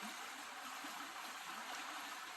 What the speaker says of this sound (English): We found some nice rapids. Rapids is just that fast-moving water